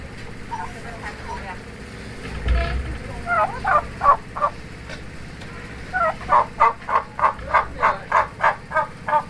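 Turkeys gobble in bursts of rapid rattling calls, close by at a barn fence, with a thump and a person's voice in between.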